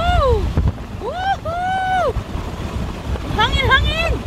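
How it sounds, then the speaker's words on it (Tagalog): Strong wind roars while driving over a long South Korean bridge, a constant low rumble of buffeting air, with a person whooping loudly over it. "woohoo. Hangin."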